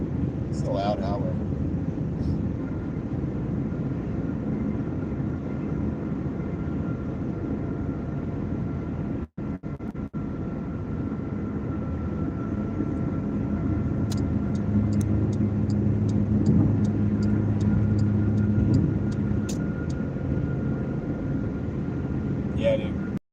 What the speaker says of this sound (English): It's a loud highway.